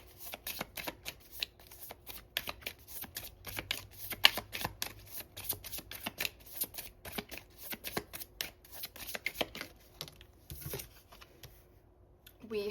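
Tarot cards are shuffled in quick, crisp riffles and flicks, a dense run of papery snaps close by, with no talking.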